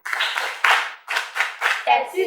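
A crowd at an outdoor health-promotion film screening in Kassakou, Kandi, bursts into several short rounds of loud, close applause, each burst rising sharply and fading before the next.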